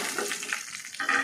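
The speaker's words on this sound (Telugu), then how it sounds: "ఆవాలు పేలాలి, పేలితేనే పోపు వేగినట్టు." Mustard seeds crackle and pop in hot oil as a tempering, or tadka, fries for a dal with drumstick and mango. The sizzle is steady and close, with small bursts of popping and no talk.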